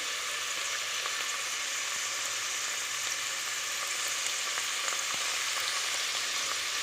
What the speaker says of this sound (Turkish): Şimdi semizotlarımı atıyorum.